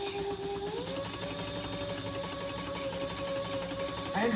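A sewing machine runs steadily while basting pieces of a hobo shoulder bag, its motor whirring close and continuous, stepping up slightly in speed early on and holding an even drone to the end.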